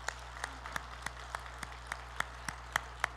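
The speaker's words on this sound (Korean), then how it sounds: "온 세상 구주로 탄생하신 예수님께 우리 박수로 영광을 올려드리겠습니다" A church congregation claps rhythmically in unison at a Christmas Sunday service, sharp regular beats around three per second. The claps sound faint and distant over a steady low hum.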